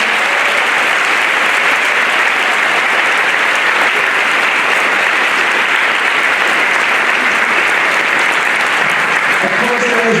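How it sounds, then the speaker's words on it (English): A large audience at a high school Veterans Day assembly applauding the organizers and dignitaries, loud dense clapping sustained evenly throughout, filling the hall. "can you give a big round of applause for the organizers and dignitaries"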